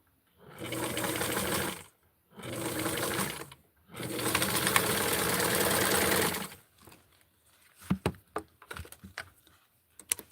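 A sewing machine stitching a doll dress runs in three bursts of steady mechanical whirring, each a couple of seconds long, then stops, leaving quiet clicks and handling noises close by.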